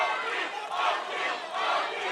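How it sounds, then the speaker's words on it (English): A crowd at an MMA fight chants in rising and falling swells, a broad, steady roar of many voices heard at a distance. "Crowd is starting to chant"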